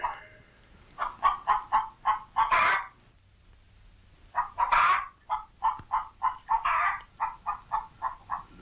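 A hen clucks in a series of short, rhythmic bursts, close and clear, with a brief pause midway before the clucking resumes in a steady run.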